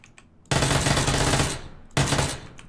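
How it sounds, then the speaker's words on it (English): Bursts of automatic gunfire in PUBG, aimed at a target behind a crate: two loud, close sustained volleys, the first about a second long, the second shorter after a brief pause. "I'm trying to shoot him through the crate"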